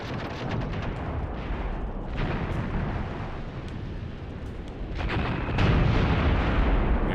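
Massed gunfire and explosions from a battle in an Iran-Iraq war video game, with dense rattling bursts and heavy booms rolling on continuously and growing louder toward the end.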